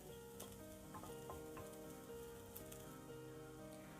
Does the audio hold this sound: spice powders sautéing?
yes